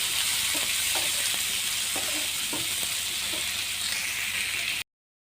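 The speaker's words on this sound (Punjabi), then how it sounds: "ਟਮਾਟਰ ਇਹਨਾਂ ਨੂੰ ਚੰਗੀ ਤਰ੍ਹਾਂ ਅਸੀਂ ਭੁੰਨ ਲੈਣਾ" Tomatoes frying in a pan while macaroni is prepared: a steady, close, loud sizzle with intermittent soft scraping strokes of stirring, running continuously and cutting off abruptly near the end.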